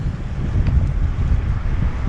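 Strong wind blows across open ground, a loud continuous low rumble buffeting the microphone throughout, with no voices.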